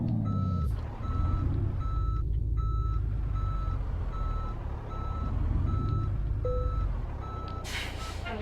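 Mack Titan truck in Euro Truck Simulator 2, steady evenly spaced reversing beeps over a deep idling engine drone, with a brief hiss of air near the end.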